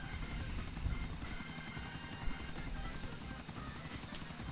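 Helicopter flying in the GTA IV video game, a steady rotor and engine drone with a dense, continuous thrum, fairly quiet and unbroken throughout.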